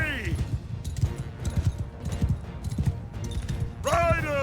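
Horse hooves pound in a steady, rhythmic gallop in Mount & Blade II Bannerlord, with muffled battle voices and shouting over the thudding steps and a louder burst near the end.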